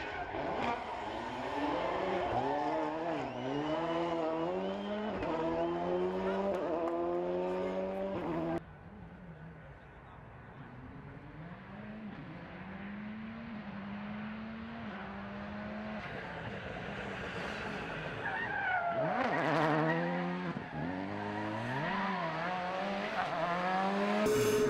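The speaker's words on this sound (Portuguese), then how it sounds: "Ouvir o trabalhar destes carros é como ouvir uma sinfonia de indústria automóvel." Porsche 911 GT3 rally cars race through a city super special stage in Lisbon, engines revving hard and shifting through gears, with tires squealing and skidding, loud and close, and a later car surging past.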